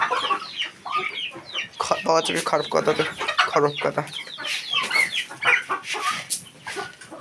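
Chickens, including a rooster, cluck repeatedly close by, mixed with a person talking over them throughout.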